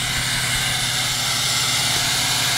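A newly built truck engine runs with a loud, airy, steady whoosh from its intake, like a shop vacuum, heard up close with no speech.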